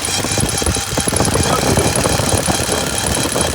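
A failing A6 air-conditioning compressor runs in a 1975 Cadillac Fleetwood, a loud, steady mechanical drone with a faint rhythmic knock running through it, close and continuous.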